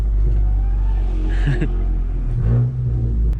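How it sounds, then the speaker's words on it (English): A Volkswagen GTI, a sleeper build, accelerates hard past parked cars, a loud, steady engine drone and rumble from inside the car with brief surges. "I feel so bad when I rip by people because like the sound bounces off their cars so loud"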